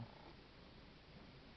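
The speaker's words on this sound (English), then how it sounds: "He's really purring loud." A cat purrs steadily close by, a soft, continuous low rumble that stays even throughout, faint and alone.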